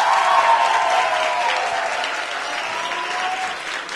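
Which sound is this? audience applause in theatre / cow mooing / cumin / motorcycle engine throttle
audience applause in theatre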